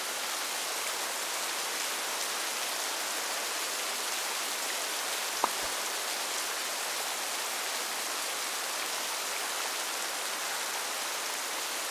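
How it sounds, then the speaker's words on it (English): Steady rain falling, a dense even hiss that holds unchanged throughout, with a single faint click partway through and no voices. "Let's hear the sound of the rain."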